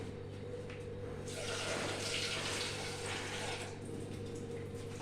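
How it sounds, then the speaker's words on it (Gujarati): Water pours steadily into toor dal in a pressure cooker for a few seconds, a broad rushing stream under a constant low hum, alone without talk. "અને દાળમાં અડધું કુકર સુધી પાણી લઉં છું."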